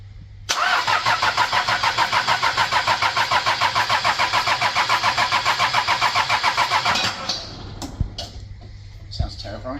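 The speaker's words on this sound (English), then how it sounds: "Let's start it up." A car engine prepared for a dyno run cranks with a rapid, even starter chatter for several seconds, then catches and settles into a loud rough idle up close, with a few clanks afterward.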